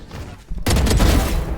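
Gunfire in a shooting video game, a sudden loud burst of shots after a quiet start, continuing as a dense rattling barrage.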